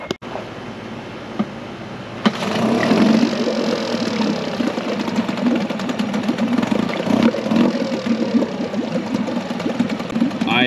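A Yamaha 5 hp outboard motor starts after about two seconds and keeps running with a loud, steady rattling drone, close by, with a faint voice underneath.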